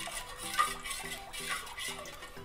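A spoon stirs salt into warm water in a pot for dahi vada, giving soft, steady scraping and faint clinks against the metal throughout, close and clear with no talk.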